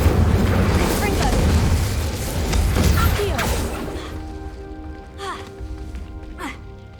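A Confringo spell explosion in Hogwarts Legacy: a loud, rumbling fiery blast with crackling debris that fades out over a few seconds, followed by a few lighter whooshing spell sounds.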